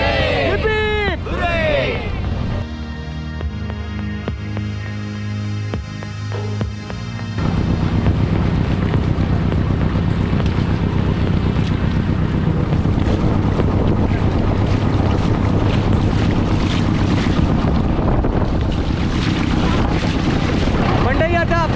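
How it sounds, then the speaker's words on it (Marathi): Motor boat cruising on the Koyna river: a steady, loud engine drone with rushing water and wind noise, first under a group cheering and chanting, then a constant engine roar filling the rest. "आणि ही आपली बोट आहे"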